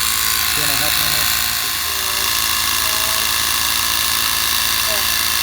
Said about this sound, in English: So here is the mini air compressor from Harbor Freight.